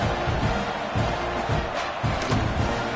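Broad, steady roar of a college football stadium crowd during a kickoff, a dense wash of many voices rumbling continuously with a few louder swells and thumps, with no clear single speaker.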